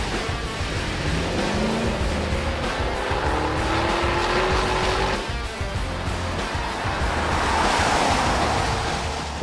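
A stock Chevrolet Camaro from Crossover Car Conversions drives a wet track, its engine note rising through gears under a steady hiss of spray and wind across the microphone, loud and continuous throughout.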